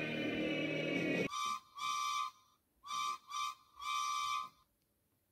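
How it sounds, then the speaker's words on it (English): A steam engine's whistle sounds in a series of separate blasts, one short and several longer, clear and moderately near after a rushing noise cuts off, with silence between and after. "It was an engine's whistle."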